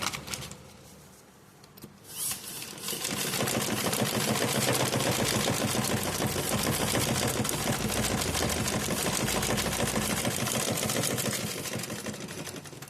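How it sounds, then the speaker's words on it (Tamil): Sewing machine stitching leaves together, a close, steady rapid mechanical whirring and clatter that starts after a couple of seconds of quieter handling and runs continuously to the end. "இது மிஷின்லேயே தைக்கலாம்"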